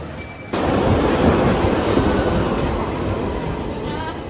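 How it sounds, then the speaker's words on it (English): A London Underground tube train travels with a loud, steady rumble and rushing roar that starts abruptly after a brief quieter moment and then holds close and constant. "we travel to Euston Station and then catch the Underground to Green Park"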